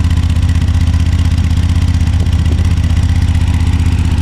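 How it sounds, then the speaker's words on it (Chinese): A Honda XL 750 Transalp motorcycle's exhaust runs steadily and loudly nearby, with a deep, even pulsing throb and a slight mechanical clatter, and no voices. "排气管的声音，我觉得这台车排气管的声音真的非常的好听。"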